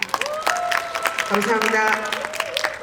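Audience clapping at a Paju village community festival gathering, scattered handclaps under someone speaking briefly into a microphone in a hall.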